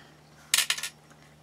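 Three quick metallic scrapes of a spatula being cleaned of E6000 glue, close and distinct against a quiet background.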